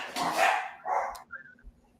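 A dog barks a few times nearby, a loud burst of barking followed by a shorter bark and faint yips, heard alone in a quiet room.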